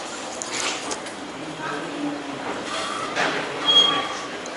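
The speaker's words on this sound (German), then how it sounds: "aber leider fahren jetzt Züge und keine Flugzeuge." A train rolls through an airport rail station with a steady, loud rumble and rattle, and a brief high wheel squeal rises near the end.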